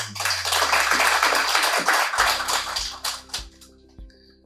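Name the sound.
audience clapping for themselves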